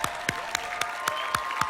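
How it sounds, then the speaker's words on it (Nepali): A congregation claps together in steady unison at a Nepali church gathering, about seven crisp claps evenly spaced over a low, constant background hum. "आउनुहोस् आज एकसाथ ताली बजाउँ।"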